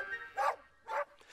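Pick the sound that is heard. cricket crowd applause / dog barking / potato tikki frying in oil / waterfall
dog barking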